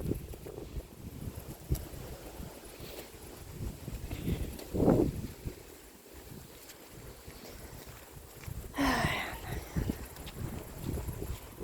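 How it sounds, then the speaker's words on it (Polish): Steady wind blows and buffets the microphone outdoors, a continuous rushing noise with a couple of brief voices and gusts. "Wieje, troszkę wiatru jest"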